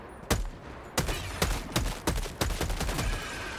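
Helldivers 2 gunfire: a handful of sharp, loud single shots and short bursts ringing out at uneven intervals, with close, punchy reports and no talking.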